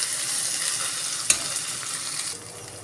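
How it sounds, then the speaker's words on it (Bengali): Ginger, garlic and green chilli paste fries with onions in a pan for chicken handi, a steady close hiss and sizzle with one brief clink of stirring partway through. "এবার আদা, রসুন, কাঁচা লঙ্কা একটু পেঁয়াজের সঙ্গে কষে নেব।"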